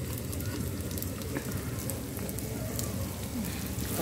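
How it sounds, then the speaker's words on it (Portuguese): Rice frying in a pan in a home kitchen, heard as a steady, close, dense sizzle that continues unbroken without any talking. "Agora é só fritar aqui"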